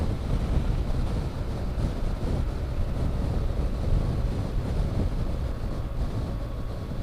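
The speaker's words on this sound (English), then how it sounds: "you've got to be careful of the wind today" Steady, roaring wind buffeting a microphone while riding a motorbike on a dual carriageway, a dense continuous rumble with no pauses and no voices.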